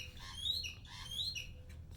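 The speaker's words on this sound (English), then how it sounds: "Some loud birds out today." Loud birds calling outdoors, two bright, shrill squawking calls in quick succession close by, over a low steady background rumble, with no talking.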